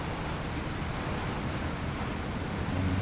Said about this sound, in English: Just got to cross this little water crossing